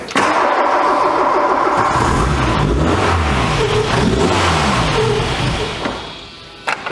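A barn-find Volkswagen Scirocco engine with K-Jetronic injection and a rebuilt warm-up regulator cranks and catches, then settles into a steady, slightly rough idle with a low rumbling throb, loud and close, fading slightly at the end.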